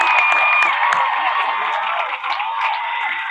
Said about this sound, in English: we should give all of those people, including our family and friends, a nice round of applause from the class